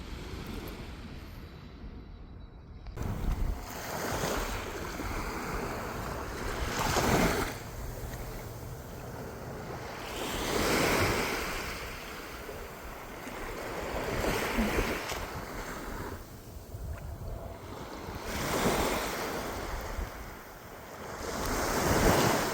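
Waves breaking on a beach on an island, with surges rising and falling every few seconds under steady wind noise on the microphone.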